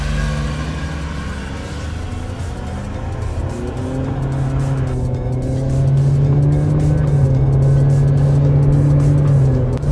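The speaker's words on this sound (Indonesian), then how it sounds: "jadi langsung aja kita tes akselerasinya" Car launching hard from a standstill with traction control off in manual mode, engine note climbing steadily and loudly as it pulls through a full acceleration run.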